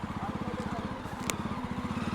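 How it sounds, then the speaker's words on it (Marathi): Low, pulsing engine drone from a vehicle coming up from behind on a rough mountain road between Patnitop and Srinagar, heard faint and steady with one brief sharp click. "गाडी येते ना मागून."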